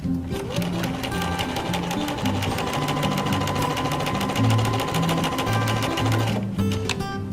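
Sewing machine stitching fabric in a sewing class, a fast steady mechanical rattle of rapid needle strokes running close and loud, with a brief pause near the end before resuming.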